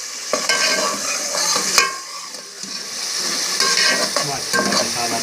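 Masala with potatoes and peas for aloo matar curry sizzles and fries steadily in a pan, with repeated scraping stir strokes of a spoon throughout, close and alone.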